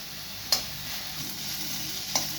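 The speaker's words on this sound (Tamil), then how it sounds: "இப்போ வந்து வெங்காயம் நல்லா ஃப்ரை ஆகிடுச்சு." Onions fry in a pan for egg rice with a quiet, steady sizzle, broken by two light spatula taps against the pan.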